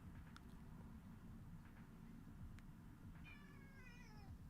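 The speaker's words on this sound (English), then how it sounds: "What are you meowing about?" A pet cat lets out a clear, drawn-out meow close by near the end, after a few softer chirps, over a steady low background hum in a room during a live stream.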